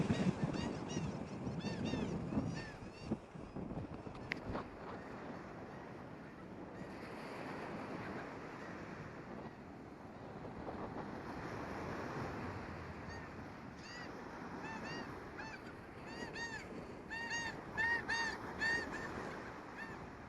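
Gulls calling repeatedly over steady surf and wind on the coast of Cuba, the cries clustering near the start and again toward the end, fairly close and moderately loud.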